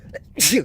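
A single sharp sneeze, loud and close, preceded by a brief intake of breath, with someone exclaiming just before it.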